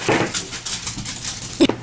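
Several household dogs bark and yelp excitedly as someone comes home, in short bursts mixed with whimpers and pattering, fairly loud and close.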